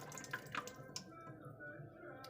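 A household tap runs clear water, one outlet spraying like a shower and another pouring normally, heard as a quiet, steady trickle with a few faint drips and splashes.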